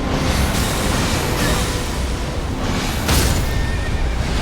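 A loud, dense Elden Ring game soundscape with a horse's whinny rising out of the noise, accompanied by rumbling and thuds.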